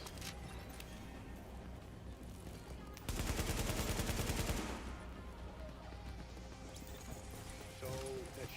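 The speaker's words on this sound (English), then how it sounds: "So, that shooting, that was you." Gunfire in The Division 1 video game breaks out as a dense, loud burst of rapid automatic shots lasting over a second, amid quieter game ambience and scattered clicks, with faint voices in the background.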